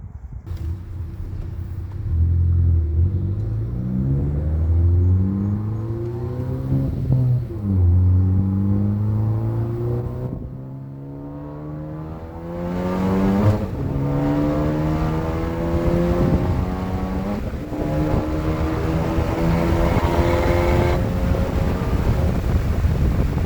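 A 2014 Ford Focus ST with a custom Mishimoto intercooler revs and pulls through gears on a test drive, engine tones climbing repeatedly then dropping at shifts, with steady wind and road noise throughout.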